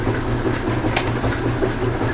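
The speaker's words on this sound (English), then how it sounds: "sorry for the noise, I'm washing clothes." A washing machine runs with a steady, loud rumbling churn and faint rhythmic clatter, continuous throughout with no voices.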